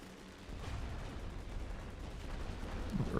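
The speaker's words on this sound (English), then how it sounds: "Artillery bombardment" Artillery bombardment in the WWI strategy game The Great War: Western Front, heard as a continuous rumble of distant gunfire and explosions that grows slightly louder and heavier toward the end.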